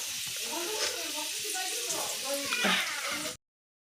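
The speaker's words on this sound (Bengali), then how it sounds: "আলু ভাজতে বসিয়ে দিলাম" Potatoes frying in a home kitchen pan give a steady sizzle through the first three seconds, with a louder burst near the end, then a sudden cutoff into silence.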